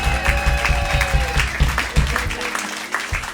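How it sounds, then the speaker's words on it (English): A live studio audience at a radio station's in-house music session applauds, dense continuous clapping close and loud throughout, with a few whoops over it. "Please give yourselves a round of applause."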